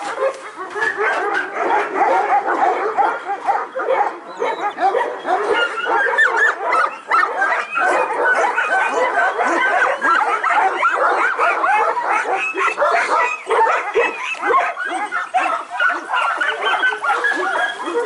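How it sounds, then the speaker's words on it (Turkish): Several Kangal dogs bark and yip continuously at a farm, a dense, loud chorus of overlapping barks with occasional whimpers, close by and steady throughout. "kara kırçıl köpeklerimizden."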